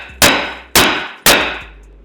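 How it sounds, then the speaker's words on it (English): Three loud metallic hammer blows on a car brake rotor to knock it loose, at a steady pace, each ringing out briefly before the next strike. "you get a hammer and you smack this rotor until it comes off"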